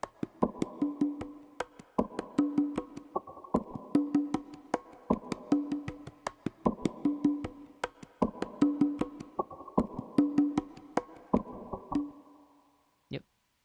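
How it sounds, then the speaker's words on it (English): Looped bongo-like hand percussion in an ambient drum and bass track, sharp repeating hits in an even pattern, moderately quiet, ending with a single isolated tap. "there's some like bongo sort of sound"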